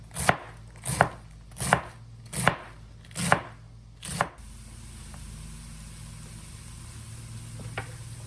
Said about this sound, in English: we're gonna slice this pretty small because we want it to brown up in the pan fairly quickly